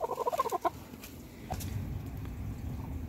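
Hens in a coop where a broody hen sits while others lay beside her give a quick run of clucks, followed by a low, steady rumble of background noise.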